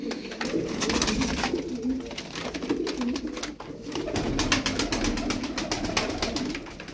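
Domestic tumbler pigeons cooing nearby in soft repeated low coos, with light rustling and faint clicks around them.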